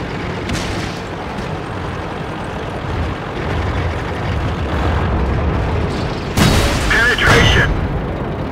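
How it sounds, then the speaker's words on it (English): In a tank video game, an enemy vehicle blows up with a deep, rumbling boom over constant engine drone, then a sharper burst of crackling impact noise near the end, loud and close. "Enemy vehicle destroyed."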